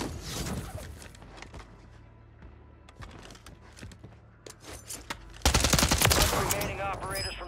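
Assault rifle fire in Warzone 3: scattered single and short bursts of shots give way near the end to a loud, dense burst of automatic fire, close and sharp, with a voice talking underneath.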